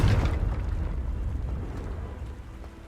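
A Confringo fire spell blasts in Hogwarts Legacy, opening with a sharp, heavy boom that rolls into a deep, rumbling decay and fades steadily over about three seconds.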